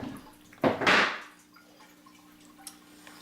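Korean pork marinade poured from a container over raw pork in a kitchen, a brief liquid splash and pour lasting under a second, fairly close, with a faint tap afterward and a steady low hum beneath.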